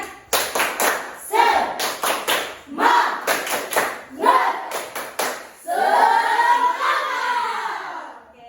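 A classroom group performs a rhythmic spirit clap together, bursts of sharp unison claps in quick patterned sets separated by short pauses, ending in a longer sustained stretch of clapping and cheering voices nearby.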